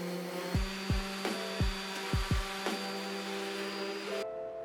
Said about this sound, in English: I'm giving it a little sanding action to take off that extra little bit of glue and smooth out the edges